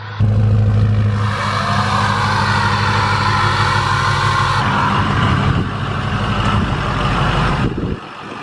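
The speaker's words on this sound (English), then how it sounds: "So we're gonna let the truck warm up here." A Ford 6.0 Powerstroke diesel pickup engine runs loud and steady as it warms up, a deep continuous rumble with a brief rise partway through before it settles and drops off near the end.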